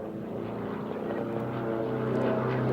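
A propeller-driven aerobatic display plane at the RAF Waddington Airshow 2006 drones past along the main runway after a crooked loop, a steady loud engine hum building slightly, with no voices.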